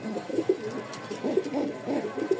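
A yellow female pigeon coos softly in repeated low, throaty pulses, close by, with faint background hiss and no talk.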